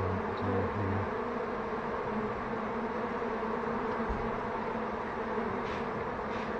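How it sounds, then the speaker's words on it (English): Gentle honeybees swarm in a steady, dense hum at their nest with stored honey and brood, as it is cut out of a house due for demolition, the buzzing loud and close and unbroken by voices. "Thank goodness they're gentle bees that are really not taking too much umbrage at this terrible interference in their lives."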